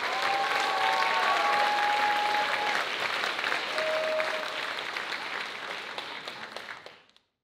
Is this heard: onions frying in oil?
no